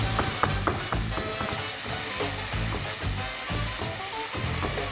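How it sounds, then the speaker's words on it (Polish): Bacon sizzles and crackles steadily in a pan, with a continuous hiss and irregular pops, close and fairly loud, with no voices. "Boczek się podsmaża"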